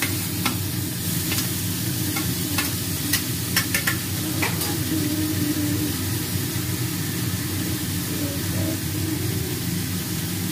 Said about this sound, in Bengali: আমরা যেমন ভাজা ভাজা করি অতটা ভাজা ভাজা করবো না, একটু সামান্য নাড়িয়ে চেড়ে নেব